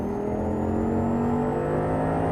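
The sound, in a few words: Audi R8 engine accelerating on the throttle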